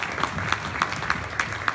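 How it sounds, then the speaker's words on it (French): Audience at a conference breaking into applause, a short burst of rhythmic, evenly spaced clapping, fairly close and steady. "on peut les applaudir"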